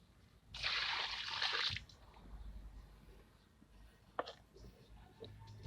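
A garden hose sprays water into a Hyundai Eon car air duct in a loud hissing rush of about a second, followed by faint drips, trickles and a sharp tap.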